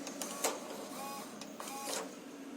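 An Igloohome smart lock mechanism sticks under pressure, giving short whirring motor bursts and clicks that strain and stop, quiet and close, with no voices.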